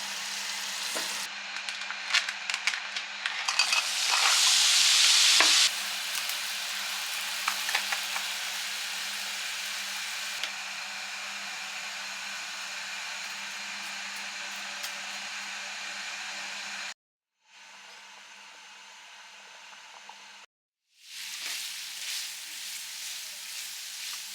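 Fish frying with spices makes a steady hissing sizzle close to the pan, louder early with some spitting, then constant. It cuts out briefly twice before returning.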